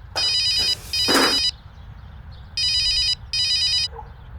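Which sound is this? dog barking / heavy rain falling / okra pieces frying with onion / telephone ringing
telephone ringing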